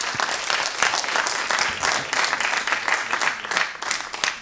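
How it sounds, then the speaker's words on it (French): An audience at a technology presentation applauds, a dense, moderately loud burst of many hands clapping that holds steady for several seconds without voices. "On peut les applaudir."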